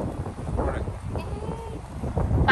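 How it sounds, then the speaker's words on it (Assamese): Strong wind gusting outdoors, a rough, rumbling rush buffeting the microphone in uneven waves for a couple of seconds, with muffled voices faintly underneath. "কেনেকুৱা বতাহ মাৰিছে"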